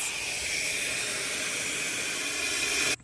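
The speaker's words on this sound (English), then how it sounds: "you can hear that it's loud, and that is because there is air escaping on the side of the hose" Loud, steady hiss of air escaping around the side of a hose while a Bestway Hollywood Saluspa inflatable hot tub is pumped up, continuous and close before cutting off abruptly at the end.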